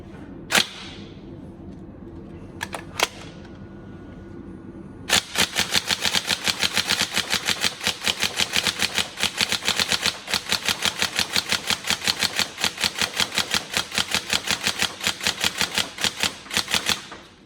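A Tokyo Marui M4 CQBR NGRS airsoft electric gun, fitted with a Titan gate, fires a few isolated single shots, then a long fast run of rapid, sharp, snappy mechanical clacks, close and loud, with no talking.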